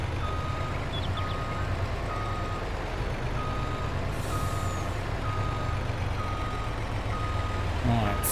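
Reversing beeps from a tractor in the Farming Simulator game sound at an even, repeating pulse over a constant engine drone, with a brief hiss of air partway through and a soft voice underneath.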